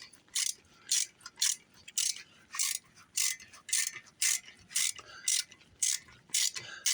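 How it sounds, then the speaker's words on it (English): A 1/4-inch ratchet extension turned by hand, fitted with a socket pressed onto a tap for an 18HP Evinrude outboard restoration, clicking in steady rhythmic bursts up close, about a dozen short ratcheting strokes. "I'm using a 1/4-inch ratchet extension."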